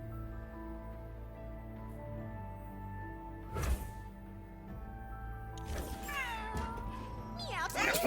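A cat meows in the card game Legends of Runeterra, a short game sound effect heard over steady background music, with other game effects around it.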